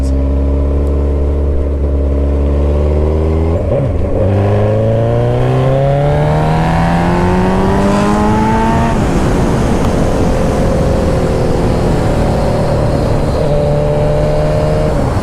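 A stretched 2007 Suzuki Hayabusa motorcycle engine on a test drive revs up through the gears, its tone climbing in loud, steady sweeps, dropping at a shift, then droning on close and constant.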